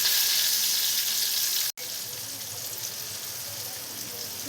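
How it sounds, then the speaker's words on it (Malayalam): Chicken popcorn pieces deep fry in oil with a loud, dense, steady sizzle, broken by a split-second gap before the bubbling hiss resumes. "ഇനി ഇത് ഇടയ്ക്കൊന്ന് തിരിച്ചും മറിച്ചിട്ടിട്ട് നമുക്കൊന്ന് ഫ്രൈ ചെയ്തെടുക്കണം."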